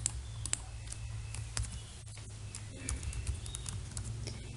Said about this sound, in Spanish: a escribir con el teclado.